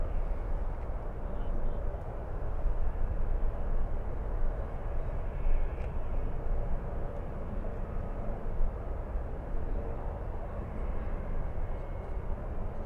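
An Airbus A380 airliner at SFO gives a steady, broad engine rumble that holds at a moderate distance throughout, continuous with no clear peak, and no voices stand out over it.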